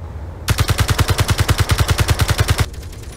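Automated turrets fire at a drone in the video game Escape from Mars. A rapid, steady burst of about twenty close, loud shots plays alone for roughly two seconds.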